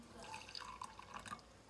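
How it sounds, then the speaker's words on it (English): Hot water is poured into a glass container for a yeast inoculum, with faint trickling and small splashy drips that ring lightly against the glass, heard quietly up close. "I'm gonna start now to pour this hot water inside here"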